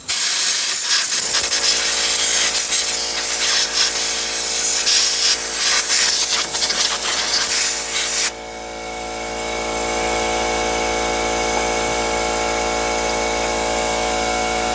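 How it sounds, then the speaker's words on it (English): Compressed air blasting into the spark plug wells of a Ford Expedition with the 5.4 Triton three-valve engine: a loud, steady hiss for about eight seconds, then a quieter tonal engine-bay hum lingering afterward. "each time you got to blow out these wells before you pull the coil and after you pull the coil"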